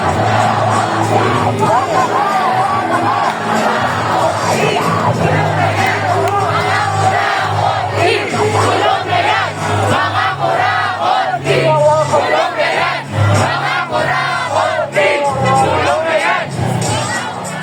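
A huge anti-corruption protest crowd at Rizal Park (Luneta) in Manila, tens of thousands shouting rhythmic chants in unison, loud and continuous with roaring cheers throughout.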